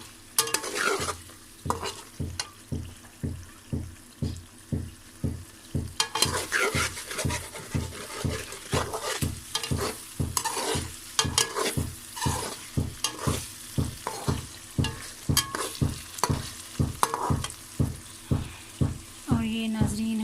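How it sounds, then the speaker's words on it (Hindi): Chicken charsi karahi, Peshawari style, is stirred hard in a pan over high heat: a steady, rapid rhythm of spatula scrapes and clanks over a constant loud sizzle, close up, with no talking. "तीन से 4 मिनट हम इसे भून लेंगे।"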